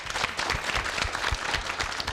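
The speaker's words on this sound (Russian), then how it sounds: "Аплодисменты." An audience applauds steadily after a speech at a school technology event, a dense, even patter of many hands clapping that continues throughout and sounds moderately close.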